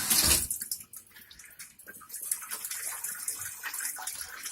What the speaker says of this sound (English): Bleach, you see that we're pouring straight bleach in there.